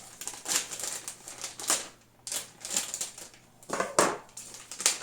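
Packaging around Ryobi orbital polisher pads is pulled open by hand, giving repeated crackly, crinkling rustles in uneven bursts, close and fairly loud.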